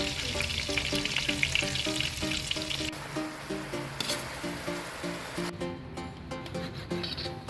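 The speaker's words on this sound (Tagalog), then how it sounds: "Una, magluluto muna tayo ng hamonado." Sweet hamonado longganisa sausages sizzle steadily in a pan, a constant crackling hiss that runs beneath rhythmic background music throughout.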